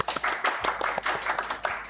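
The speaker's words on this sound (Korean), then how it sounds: "박수 부탁드립니다" Audience clapping to welcome a presenter at a cloud computing workshop, a short burst of distinct individual claps from a modest crowd, fairly close and uneven in rhythm.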